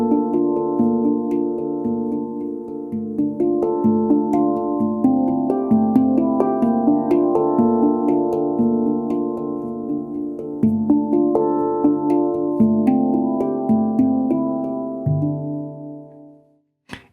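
A handpan plays a flowing arpeggio pattern, bright ringing metallic notes struck in a steady repeating rhythm with long overlapping sustain, alone and close, ending on a fading final ring.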